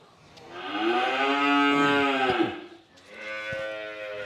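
A dairy cow mooing at a cattle market: one long, loud, close moo followed by a shorter second call, with no talk.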